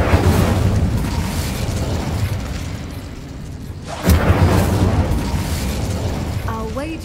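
A fiery Incendio spell blast from Hogwarts Legacy bursts with a loud whoosh and boom about halfway through, set against a steady rumbling game soundscape.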